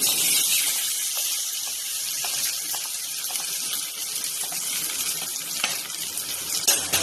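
Steady hissing sizzle of hot golden tempering oil poured into kootu curry, broad and continuous with a few brief crackles, no voices.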